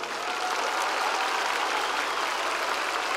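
Applause from a crowd of about 15,000 at the Viña del Mar song festival in 2024, a dense, steady roar of clapping that fills the whole stretch without pause.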